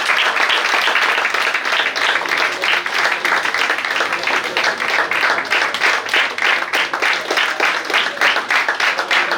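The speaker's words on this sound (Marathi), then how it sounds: "एकदा जोरदार टाळ्या झाल्या पाहिजे." Loud, sustained audience applause at a World Pharmacists Day awareness session on multi-drug resistance, dense steady clapping filling the hall throughout.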